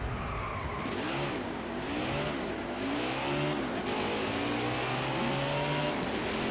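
NASCAR Heat 5 stock car spinning out at New Hampshire Motor Speedway, loud engine revving with rising and falling pitch under screeching tire squeals, continuous and close throughout.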